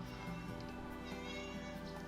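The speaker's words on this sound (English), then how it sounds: "A cat's going to interrupt us." A real cat meows a couple of short times, quiet and close, beneath a dense bed of video game music from Xenogears.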